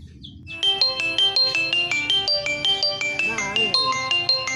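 A phone ringtone plays a melodic electronic tune in steady repeating bursts, loud and close, with low background rumble and faint voices beneath, during an Indonesian short film.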